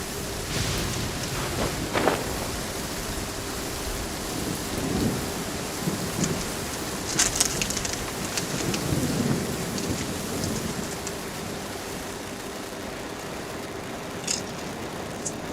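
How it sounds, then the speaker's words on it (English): Steady rain patters continuously while several low rumbles and cracks of thunder roll through at intervals, moderately loud, with no speech. "Of course it has to rain."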